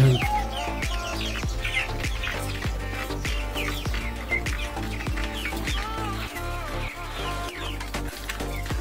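Vanaraja chickens on a farm keep up a dense, continuous mix of clucks and high chirps, close and busy throughout, with sharp knocks and thumps scattered among them and no talking.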